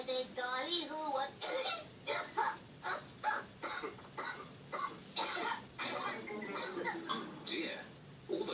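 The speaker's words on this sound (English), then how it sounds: "all the grown-ups have caught Pedro's cough" A cartoon character coughs over and over in Peppa Pig, with short harsh hacking bursts coming at a steady rhythm, mixed with voiced, throaty sounds at close range.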